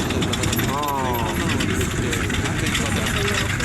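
A T-34 tank's V12 diesel engine rumbles heavily and steadily during a demonstration run at the Bovington Tank Museum's Tankfest, with a voice talking over the loud, continuous throb.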